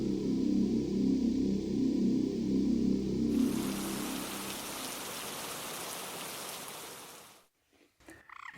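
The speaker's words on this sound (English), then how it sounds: "We just had a tremendous downpour of rain" Heavy rain drums steadily on a surface during a tremendous summer downpour at a carp fishing lake at Blackthorn Fishery, a dense hiss that fades out before brief rustling at the end.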